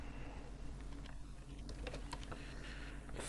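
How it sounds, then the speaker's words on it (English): Steady typing on a computer keyboard while entering router configuration commands, a quiet, continuous patter of key presses with a few sharper clicks, close and faint against a low background hum. "I always type these commands even if they are not required."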